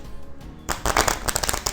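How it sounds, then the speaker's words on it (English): A deck of playing cards is riffle shuffled, a quiet setup followed by a loud rapid flurry of fluttering card snaps close up, ending in a few quick taps. "when you do a riffle shuffle"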